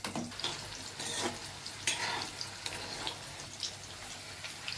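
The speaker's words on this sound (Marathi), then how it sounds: "आपण ज्या तेलामध्ये बरिस्ता तळाय त्या तेलामध्ये आता भाज्या तळून घेणार आहे." Carrots for vegetable dum biryani frying in the oil left over from frying onions, a steady bubbling sizzle with a few louder crackling bursts, fairly quiet and without voices.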